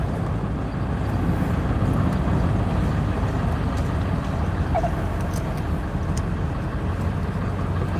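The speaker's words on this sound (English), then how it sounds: "You can hear my squealing pulley too." A car with a squealing pulley, heard from inside while driving: a steady, loud engine and road drone throughout, with any squeal faint and barely standing out.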